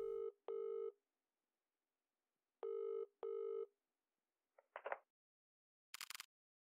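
Electronic telephone ring tones in a video game sound in two pairs of steady beeping bursts separated by silence. A couple of brief clicks and a sharp noise burst follow.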